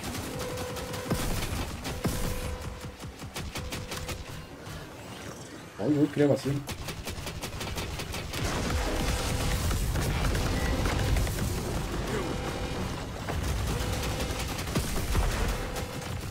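Rapid gunfire bursts and explosions from the Contra video game, with music running underneath and a player briefly exclaiming over the action.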